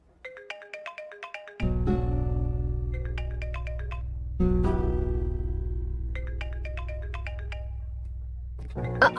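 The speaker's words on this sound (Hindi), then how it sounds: "तुम जब से आई हो तब से साला फोन बजे ही जा रहा है" A mobile phone ringtone rings during a scene in a Hindi-dubbed South Indian film, its bright melodic phrase repeating in several loud bursts over a steady low buzz, with no talking.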